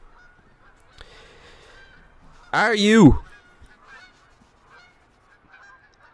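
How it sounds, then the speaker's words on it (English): Snow goose from the hunting game theHunter Call of the Wild gives one loud, close honking call lasting about half a second, with faint speech and quiet game ambience before and after. "a gold snow goose"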